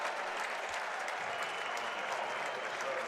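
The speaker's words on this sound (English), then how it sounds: "As Let's Go Blue chants reign." An arena crowd of Michigan Wolverines fans at the United Center, at an NCAA men's tournament Sweet 16 basketball game, cheers and claps in a dense, continuous roar, heard faintly from a distance.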